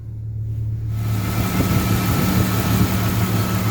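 A 2000 Jeep Cherokee engine idles warm and steady after an oil change, a continuous low hum with a light ticking texture from the lifters, close and unbroken with no talking.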